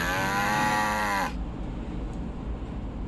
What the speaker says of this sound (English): I know that moo anywhere.